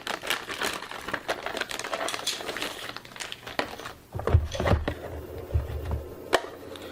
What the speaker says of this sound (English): So let's unwrap the access point.